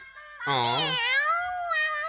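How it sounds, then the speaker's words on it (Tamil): A kitten's high, drawn-out meow rises and bends, followed by a softer trailing mewl, close and clear in a quiet room. "பூனைக்குட்டி."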